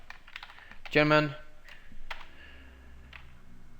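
Quick burst of computer keyboard typing, a short cluster of clicks followed by a few scattered taps, close and fairly quiet, with a voice speaking lightly in between.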